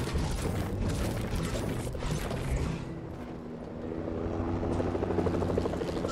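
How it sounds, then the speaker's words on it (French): Helicopter rotor chopping steadily through a French co-op shooter game session with sharks, loud and continuous with a brief dip mid-clip, engine drone underneath. "Donc tu vois l'hélicoptère."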